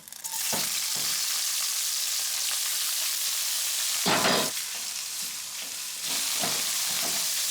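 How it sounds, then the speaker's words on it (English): Garlic and shrimp fry in hot extra virgin olive oil in a pan, a loud steady sizzle with bursts of crackling and occasional stirring scrapes and clatter, close by and uninterrupted by talk. "I'm just going to slightly brown my garlic and then add my shrimp."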